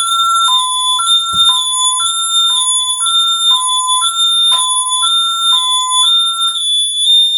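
An ADT SafeWatch Pro 3000 home security alarm beeps in a steady repeating two-tone pattern, loud and piercing, continuing throughout.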